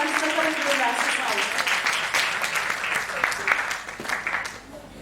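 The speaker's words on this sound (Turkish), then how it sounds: "Hocalarımıza bir kuvvetli alkış alalım." An audience at a concert with plaque and flower presentations claps for the teachers, steady mid-level clapping that thins toward the end, with some faint voices underneath.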